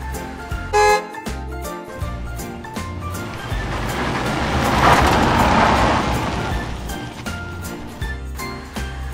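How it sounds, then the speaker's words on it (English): Toy ambulance sound effect with short horn toots and a siren-like electronic tone, fairly loud and continuous, over busy toy music with jingling tinkles and no talking. "Ambulance."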